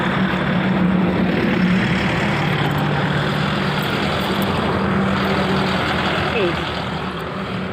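A vehicle engine idles steadily with a low, constant rumble and broadband noise throughout, close and fairly loud, without revving.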